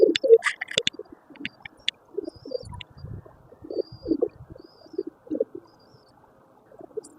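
Pigeons on a rooftop softly cooing in short, low bursts while drinking water, with a few sharp chirps and wing or feet scuffles near the start and faint background tones.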